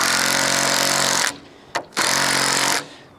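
Power tool driving nuts onto the bolts of a wooden gate's hinge in two loud buzzing bursts, split by a brief pause and a short blip.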